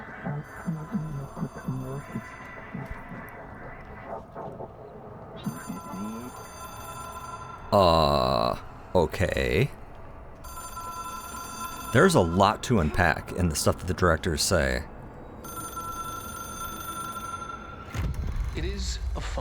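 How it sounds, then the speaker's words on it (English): An old telephone rings in the Control video game, its bell heard in repeated bursts amid droning, humming ambience, with someone talking over parts of it. "Yeah, I hear the phone."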